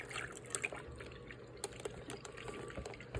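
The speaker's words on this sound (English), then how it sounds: "I'm gonna just go ahead and pour it in over here" Milk poured into a bag gives a soft, faint liquid trickle with a few small splashes and drips, close by and quiet.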